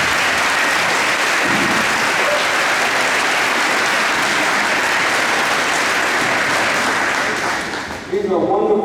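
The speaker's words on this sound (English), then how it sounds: "That deserves applause" Sustained applause from a large crowd at a high school senior recognition night, steady and loud for several seconds before tapering off near the end.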